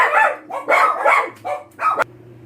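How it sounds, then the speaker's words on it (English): A dog barks in several loud, close bursts, about five sharp barks over two seconds, with a low steady hum underneath and no talking. "my dog went nuts"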